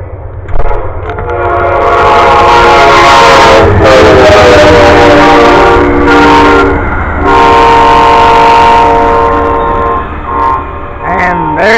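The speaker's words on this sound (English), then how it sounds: "here comes another train" A train rumbles past loudly with a sustained, blaring horn sounding over the clatter of the cars.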